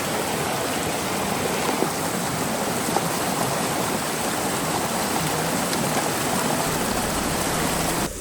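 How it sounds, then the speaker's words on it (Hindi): Rain falls on a hillside where small waterfalls are running, and together they make a loud, steady, continuous rush of water with no pauses and no voices. "अब पहाड़ों पे चढ़ते हुए बारिश आ रही थी, छोटे छोटे झरने बह रहे थे"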